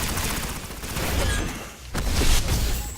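A weapon firing continuously in the shooter game Destiny: a dense, sustained stream of rapid shots with booming low end, briefly dipping before resuming at full loudness.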